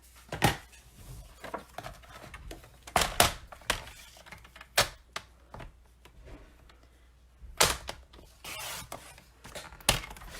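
A piece of stamped dark cardstock is cut during a paper-crafting session, producing a series of sharp, close snips and clacks at irregular intervals, separated by quiet pauses.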